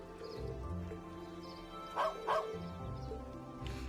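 A happy dog in the video game Trails of Cold Steel gives two quick, clear barks in close succession over steady background game music.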